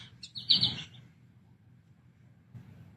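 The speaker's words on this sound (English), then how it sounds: "you hear the birds." A short, bright bird chirp rings out nearby over a low background hum, followed by quiet stillness.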